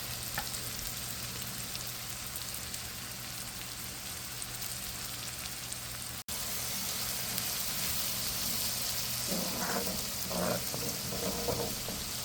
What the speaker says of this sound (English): now the heat is on high because I want this to cook really nice and evenly